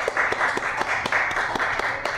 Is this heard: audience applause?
yes